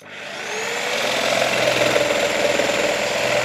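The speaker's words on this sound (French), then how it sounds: "Voyons maintenant ce que donne cette machine en situation avec la découpe d'une planche de médium de 18 mm d'épaisseur." A Bosch Pro GST 90E jigsaw set to speed 3 with pendulum action off cuts an 18 mm MDF board, its motor spinning up into a steady, even buzzing drone with a rapid blade chatter that holds throughout, close and fairly loud.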